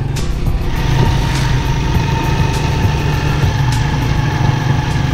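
A motorcycle engine runs steadily and close throughout a cold autumn morning ride through a mountain valley, with a constant low rumble and no talking.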